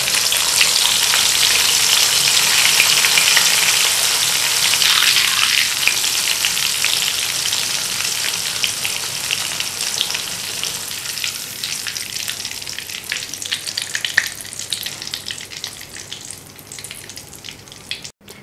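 Raisins frying in hot oil for a chewra nimko snack: a dense, steady sizzle and crackle that runs the whole time and thins slightly toward the end, with no voices.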